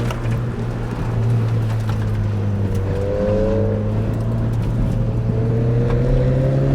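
Car pushed hard through an autocross course, its engine droning steadily loud and close with rising and falling pitch as it accelerates and lifts between corners, continuous throughout.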